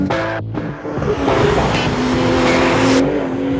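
A Porsche driven hard in Sport mode, its engine revving loudly with a quick, crisp gear shift near the start before the engine note climbs steadily again, heard from close by.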